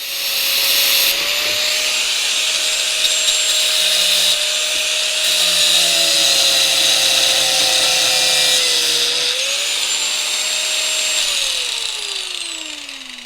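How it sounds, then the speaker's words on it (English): An angle grinder cuts through steel angle iron in a small farm fabrication shop, giving a loud, continuous high-pitched whine with shifting tone that runs nearly unbroken for about thirteen seconds, close up and without talk. "right there you got to see some of the angle iron doing it, angle grinder doing its job"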